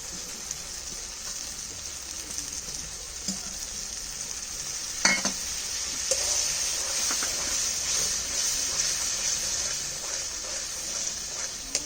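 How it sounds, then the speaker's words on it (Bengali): Mustard and poppy seed paste fries in a pan with a steady, close sizzling hiss that holds for the whole stretch, broken by a few stirring scrapes and clinks. "এবার সর্ষা আর পোস্ত বাটাটা দিয়ে দিচ্ছি দিয়ে একটুখানি কষাবো"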